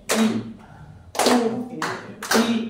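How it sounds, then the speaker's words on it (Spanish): Hand claps in a music class, four sharp separate claps in a loose beat with short gaps between them, close and distinct with no talk over them. "Ahí estoy escuchando un aplauso ahí."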